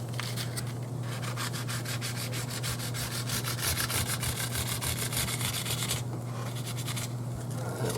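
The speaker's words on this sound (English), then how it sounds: "I'm just going to go over this edge one more time with a little bit of this 600 sandpaper." Steady back-and-forth rubbing of 600 grit sandpaper along the edge of a solid wood guitar body for a '58 double cut Junior replica, a close, continuous scratchy sanding under a constant low background hum.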